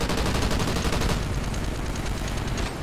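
Sustained automatic gunfire in the Call of Duty: Ghosts campaign, dense rapid shots rattling continuously and loud throughout, with battle noise beneath and no clear talking.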